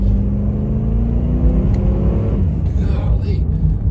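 A 1992 Cadillac Sedan Deville engine revs up close by as a steady, loud rumble with rising pitch that then settles, with a voice talking faintly underneath.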